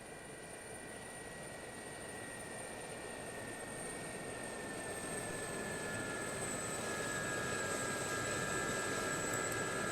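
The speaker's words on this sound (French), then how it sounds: "un hélicoptère arrive" A helicopter approaches in the video game Arma 3, its steady, loud engine and rotor drone holding constant and swelling slightly over time, with a high turbine whine running above it.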